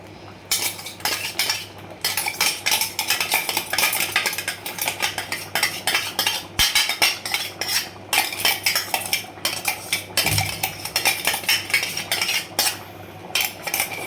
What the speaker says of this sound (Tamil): இப்போ நம்ம ஸ்மாஷ் பண்ணதை அப்படியே மிக்ஸ் பண்ணிக்கலாம்.